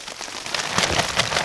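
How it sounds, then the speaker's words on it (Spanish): Rain falling steadily at the Torrechayoq ruins of the Chanka people, a dense close patter of drops on surfaces with no voices. "Mientras tanto, está lloviendo."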